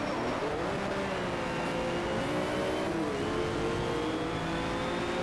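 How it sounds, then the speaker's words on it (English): A race car engine roars steadily close behind in Need for Speed Shift 2, its revving pitch rising and shifting over continuous loud engine and road noise, with no voices. "I can already hear his engine very close."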